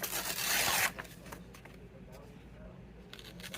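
A page being ripped out of an old book, a quick, close tearing rasp lasting under a second, followed by faint rustling and handling noises, with a voice speaking nearby.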